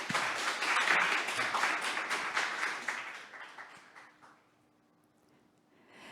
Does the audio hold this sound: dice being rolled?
no